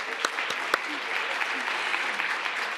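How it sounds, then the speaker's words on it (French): An audience at a science event applauds the organizers, steady clapping from a moderate crowd with a few sharper nearby claps and faint voices underneath. "Donc je pense qu'on peut aussi les applaudir."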